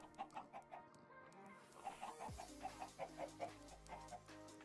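Minecraft chickens clucking in the game, a run of short rhythmic clucks repeating steadily at moderate volume over faint game background sound, with no talk.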